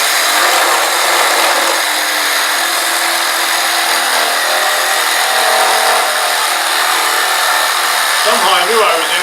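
A power saw with a fine blade cuts through wood, a loud continuous buzzing whine held steadily for most of the stretch before slowing and tapering near the end.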